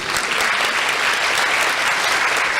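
Sustained applause from a church congregation during a worship service, dense and steady throughout, fairly loud and close with no speech over it.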